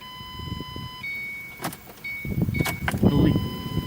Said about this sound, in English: you can hear the fuel pump groaning.